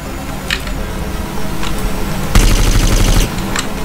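Video game gunfire in GTA San Andreas: scattered single shots, then a loud, dense rapid automatic burst lasting under a second, over constant game background noise.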